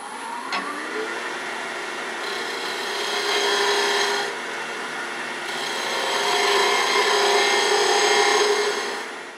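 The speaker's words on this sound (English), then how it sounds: "I'm going to use a skew to bring it down here and use the spindle roughing gouge to add a little shape to it" Spindle roughing gouge cutting a wood spindle on a woodturning lathe, a steady scraping rasp with a motor hum that swells and eases in long passes, fairly close and alone.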